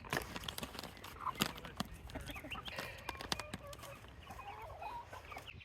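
Year-old Sasso hens, ivory and scarlet, cluck softly in a scattered series of short calls and low murmurs, faint and close, with occasional sharper clucks.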